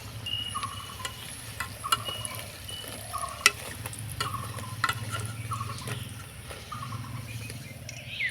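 Gaja pastries frying in hot oil, a steady soft sizzle with occasional clinks and scrapes of a utensil in the pan, moderately close.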